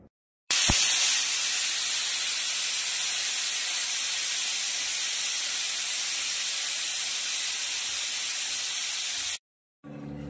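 A pressure cooker of chole vents steam in one loud, steady hiss, starting abruptly and holding for about nine seconds before cutting off, with a brief trailing burst after.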